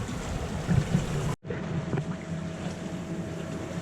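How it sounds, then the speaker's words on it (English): A low diesel engine drones steadily on a sailboat under wind noise and water, cut by a brief break before the rumble continues. "I'm pretty sure you can hear our diesel running"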